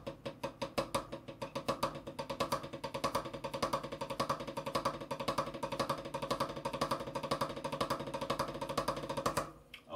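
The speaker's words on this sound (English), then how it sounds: "Your 2 beat is gonna be a 6-stroke triplet roll." A drummer plays a six-stroke triplet roll as rapid, evenly spaced strokes in a continuous rhythmic stream for about ten seconds, then stops abruptly at the end.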